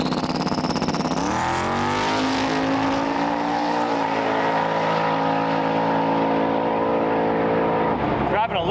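Drag race car launching and accelerating, a loud engine roar climbing in pitch then holding a steady high drone as it pulls away, with voices over it.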